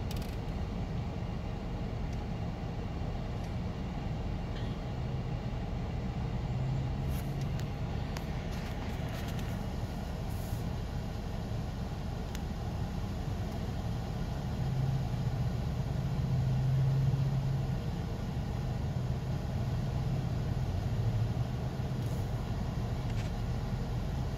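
A 2006 Dodge Magnum R/T with a new police-package PCM drives on a test run, its engine a steady, even low hum under road and cabin noise, moderately quiet, with no talk.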